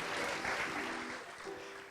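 Sustained audience applause at a zero waste summit, a dense steady wash of clapping from a crowd, loud and continuous for the whole stretch with a few faint cheers mixed in.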